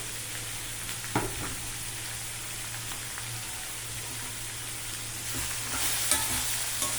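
Dal mixed into a ridge gourd curry in a pan, with a faint steady sizzle and an occasional soft scrape of stirring, a low hum underneath.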